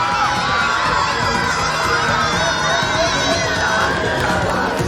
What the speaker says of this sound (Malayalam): ഇപ്പോഴും വിദ്യാർത്ഥികൾ ഈ കലാമണ്ഡലത്തിലെ കൂത്തുമണ്ഡലത്തിനകത്തേക്ക് കയറിക്കൊണ്ട് അതിലൂടെ വന്നുകൊണ്ട് വലിയ മുദ്രാവാക്യം വിളിക്കുകയാണ്